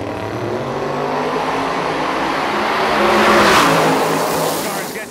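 Drag racing cars accelerate away down the strip at South Georgia Motorsports Park on a foggy evening, a loud steady engine roar swelling and fading, with a commentator talking over it.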